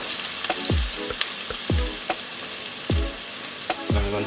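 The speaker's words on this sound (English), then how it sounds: "now that my oil is heated, I'm going to saute my veggies" Scallion, garlic, pimento berries and Scotch bonnet pepper sauté in hot oil for callaloo and saltfish, a close crackling sizzle broken by repeated stirring thumps and scrapes at an uneven rhythm.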